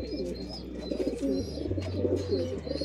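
A dove or pigeon coos in soft, repeated low calls, fairly close, with no talking.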